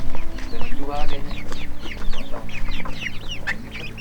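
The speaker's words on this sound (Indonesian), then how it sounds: "Oh ini pelihara ayam nih." Backyard chickens cluck in a busy, continuous chatter at close range, with a person talking over them.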